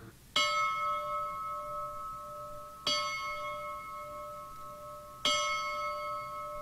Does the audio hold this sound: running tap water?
no